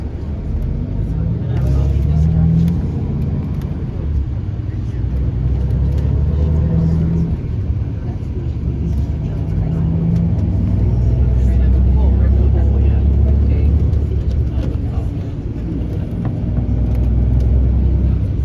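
Inside a tour bus moving through the streets of Toledo, Spain, a loud low engine rumble rises and falls as it drives, and people talk now and then.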